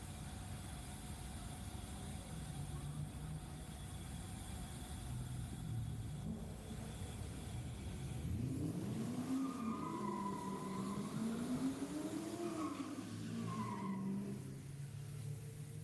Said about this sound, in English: Commodores going through their burnout procedure